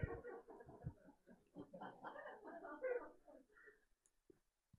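A human voice imitates the wheezing of narrowed bronchi with a series of squeaky, whistling, strained breath sounds for about four seconds, close and fairly loud, then fades to near silence.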